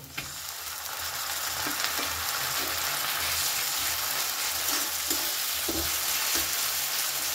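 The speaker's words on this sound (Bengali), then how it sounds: "পেঁয়াজ রসুন খুব ভালো করে ভেজে নিয়েছি। এবারে এর মধ্যে আমি দিয়ে দেব কেটে রাখা টমেটো" Chopped tomato goes into onion and garlic already fried in a pan for garlicky methi greens, giving a dense, steady close sizzle with occasional soft stirring knocks and no speech.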